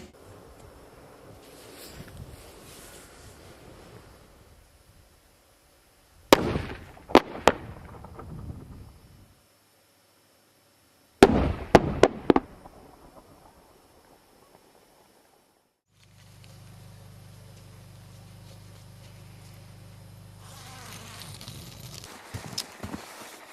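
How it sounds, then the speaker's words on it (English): Dynamite blasts at a frozen fossil quarry exposing the Liscombe bone bed, heard as two separate sharp, loud detonations with a crackling tail, and later a steady low mechanical drone. "after 2 rounds of blasting with dynamite, the miners were able to expose a considerable section of the Liscombe bone bed."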